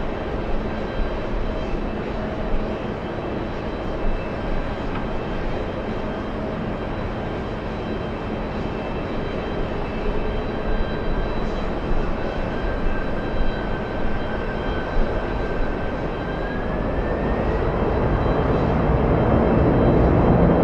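Passenger airplane arriving from Atlanta at the airport beside the TWA Hotel, a steady, distant jet engine drone that swells gradually louder toward the end.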